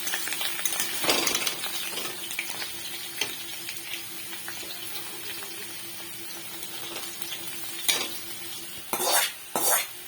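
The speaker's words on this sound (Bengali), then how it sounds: "দেখো আলুটা আরেকটু ভাজা হবে, আরেকটু ভাজা হলে তারপরে আমি নামাবো।" Potatoes fry in a pan of oil, a steady soft sizzle with occasional stirring and metal utensil scrapes, louder clatter near the end, no talking.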